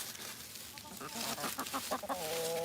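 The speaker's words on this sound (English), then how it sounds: "Look at this rooster right here." A rooster clucks outdoors in a rapid run of short, rising calls, close and fairly loud, with wind noise behind it and no talking.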